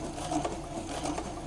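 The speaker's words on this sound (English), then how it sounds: "start sewing" A sewing machine stitches along a center fold in fabric for a ZPP kit, giving a steady, fast mechanical whir with a rapid ticking rhythm. Close and constant, without speech.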